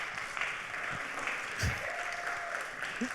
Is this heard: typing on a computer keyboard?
no